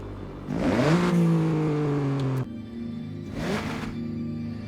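A Toyota Prius hybrid engine in Forza Horizon 6 revs up with a rising whine, holds a steady drone, then drops abruptly and surges again briefly, with an odd, synthetic quality.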